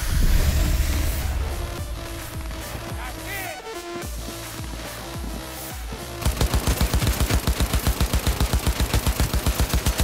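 Gunfire erupts in Cyberpunk 2077, starting with chaotic, overlapping shots and combat noise, then shifting to a loud, rapid, evenly spaced automatic burst that runs to the end.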